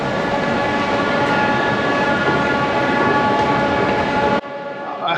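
Kuala Lumpur monorail train at a station, a steady loud rumble and hum of the train running close by that continues for several seconds before cutting off abruptly near the end, with no voices.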